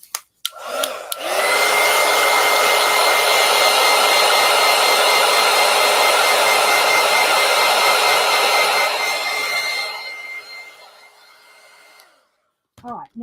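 A hair dryer blows to dry paint on an artwork, switching on with a click and running as a loud, steady whirring roar for about eight seconds, then dropping to a lower setting before cutting off.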